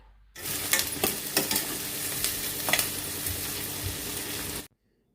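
Hot oil crackles and sizzles loudly as tempering spices for amaranth greens hit the pan, with a few sharp stirring clinks, then the sound cuts off abruptly.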